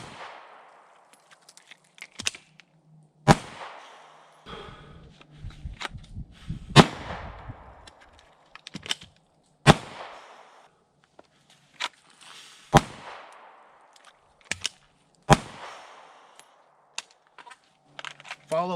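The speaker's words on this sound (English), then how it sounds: "Let's go shoot some stuff." Live-fire shooting practice with a handgun: sharp, loud gunshots ring out one at a time at irregular intervals, some in quick pairs, with quieter shuffling and handling sounds between them and no talk.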